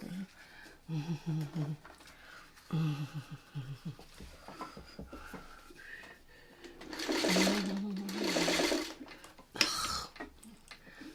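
A sewing machine stitches quilt pieces in short bursts, with a quick buzzing run near the end, while someone talks quietly between and over the stitching.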